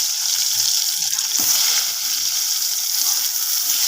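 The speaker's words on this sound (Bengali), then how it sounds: "ওই তেলের মধ্যে এখনও বেগুন আমার, সেগুলোকে আমি এই তেলের মধ্যে ভেজে নেব।" Eggplant frying in oil for an eggplant chaat, a constant bright hiss of sizzling oil, close and steady, with a brief clatter partway through and no speech.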